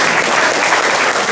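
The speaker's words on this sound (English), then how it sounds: "Can we give Senator Lala a round of applause?" Dense, steady applause at a civic association meeting for a senator, loud and continuous throughout with no gaps.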